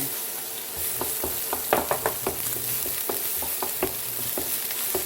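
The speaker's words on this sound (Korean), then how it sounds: "볶음팬에 준비된 볶음 식용유를 전부 넣고 달궈지면맨 먼저 양파를 볶아줄 거예요" Onions stir-fry in hot cooking oil in a frying pan, a steady close sizzle broken by repeated scraping clicks of a spatula stirring at an irregular rhythm.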